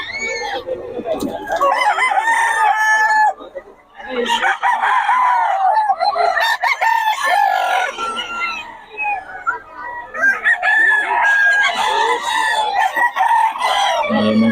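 A Lemon Sweater gamecock rooster crows repeatedly and loudly close by, with several long crows separated by brief pauses and some clucking between them.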